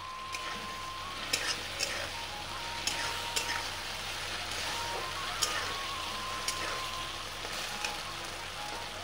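Koi fish fries in a pan with a paste of ground cumin, mustard and green chili. The steady sizzle is fairly soft, with sharp spatters and clicks popping out every second or so.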